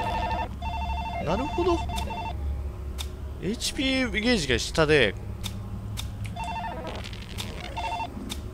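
A telephone rings in the COLINA Legacy survival horror video game, repeated electronic ring bursts cutting in and out over game sounds while someone talks briefly.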